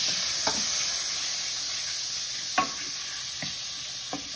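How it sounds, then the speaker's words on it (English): Butter melts in a pan over a lowered flame, giving a steady close sizzle with a few light utensil taps and stirs. "I'm just gonna melt our butter and then add our cheese sauce"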